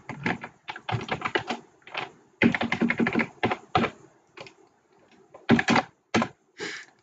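Rapid clusters of typing on a computer keyboard, close and crisp, arriving in bursts separated by short pauses, with no talking over the keystrokes.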